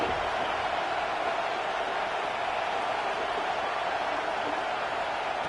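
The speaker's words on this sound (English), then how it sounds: "Listen to this crowd just shaking the girders of this place, trying to help their defense." Stadium crowd roaring in Madden 26 football, a dense, steady wall of broad crowd noise that holds constant throughout without letting up, with commentary faintly under it.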